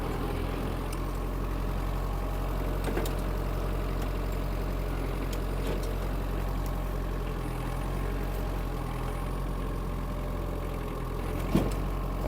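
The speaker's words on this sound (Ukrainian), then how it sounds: "а тракторець з легкістю тут може розвернутися" A Kubota X-20 mini tractor's small engine runs steadily nearby with a low, even drone and occasional faint clicks and knocks.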